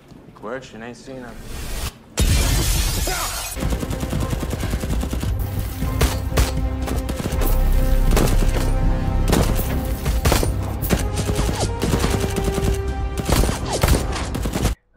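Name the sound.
gunfire exchange in a shootout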